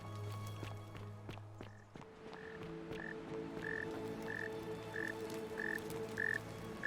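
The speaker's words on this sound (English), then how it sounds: "Very noisy frog around here." A frog in the video game The Forgotten City croaks in a steady, evenly spaced series of short calls over a quiet ambient background, with light footsteps-like taps scattered throughout.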